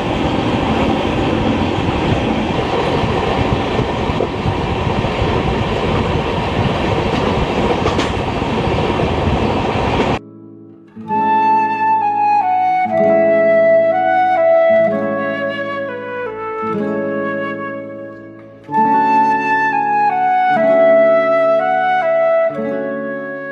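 The 13053 Kulik Express rolls along with a loud, steady rumble and rattle heard from inside a Vistadome coach between Howrah and Bolpur in monsoon season, before music takes over for the rest.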